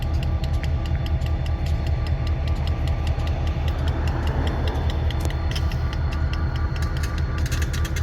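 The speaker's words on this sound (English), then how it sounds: "Release from the handbrake, I believe." A steady mechanical clatter with repeated ticking and ratcheting clicks over a low rumble, as a train's heavy handbrake releases close by at Oconto Falls.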